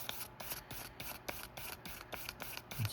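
Hand sanding an edge with 1000 grit sandpaper, a steady rhythmic rasping of paper stroked back and forth about three times a second, close and quiet with no voices.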